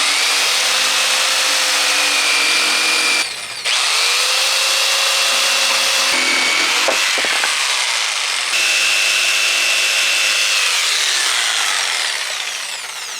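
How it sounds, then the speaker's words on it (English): A new Mastercraft jigsaw saws through wood for a barrel sauna build, a loud continuous buzzing cut that runs for most of the clip with a few brief pauses and restarts, no talking. "We picked up a nice brand new Mastercraft jigsaw. This is gonna work a lot better."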